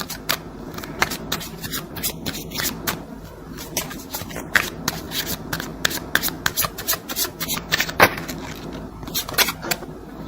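Tarot cards handled and shuffled at close range, a dense run of quick flicks, rubs and riffles in an uneven rhythm, heard alone without talk.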